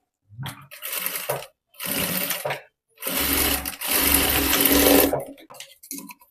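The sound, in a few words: sewing machine stitching blouse shoulder seam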